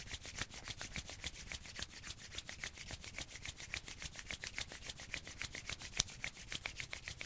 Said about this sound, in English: Bring your hands together to touch in front of your heart and rub the hands together.